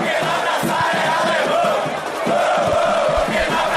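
Simulated stadium crowd in PES 6 roaring steadily in approval of a defender's play during a Brasileirão 2023 Palmeiras vs Bahia match, a dense continuous wash of cheering voices with no commentary over it.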